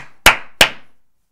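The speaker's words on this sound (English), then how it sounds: "I do the clap thing." Two sharp, loud hand claps about a third of a second apart, each one a crisp isolated crack with a short ringing decay, given as an audio sync marker with no talking.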